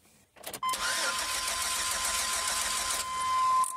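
A 1997 GMC Safari engine cranks steadily without catching, a continuous whirring churn from the starter close by, stopping abruptly after about three seconds.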